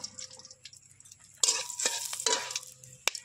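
Bay leaf, dried chili and whole spices dropped into hot mustard oil in a kadai, giving a sudden burst of crackling sizzle after a quiet moment, with stirring and a sharp clink near the end.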